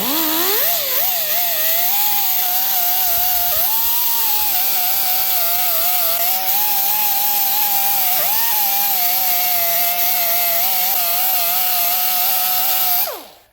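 A high-pitched power tool whines steadily for several seconds with an abrasive disc grinding an aluminum gasket surface on a 1992 Dodge Stealth, its pitch dipping briefly under load before winding down.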